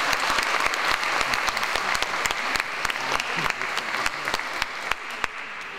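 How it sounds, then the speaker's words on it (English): Dense, steady applause from an audience at an International Peace Day 2017 music event, sustained and fairly loud throughout, with scattered sharper claps standing out from the wash. "give them a big round of applause"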